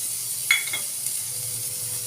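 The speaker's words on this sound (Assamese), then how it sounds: "এতিয়া মই আদা টুকুৰা দি দিছোঁ।" Ginger pieces added to hot refined oil with cumin seeds in a kadhai give a soft, steady sizzle, with one brief clink near the start and no talking.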